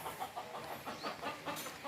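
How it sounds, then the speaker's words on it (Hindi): Caged chickens on a farm in Oman cluck faintly in quick repeated bursts, a soft, busy chatter of several birds at a modest distance. "ये देखें ओमान की मुर्गी पिंजरे के अंदर। तो काफ़ी आवाज़ कर रही है।"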